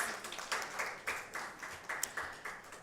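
Applause from a forum audience in a hall welcoming a women's coalition convener, a steady, moderately loud patter of many hands with gentle swells, no voices over it.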